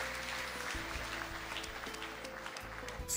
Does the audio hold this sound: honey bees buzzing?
no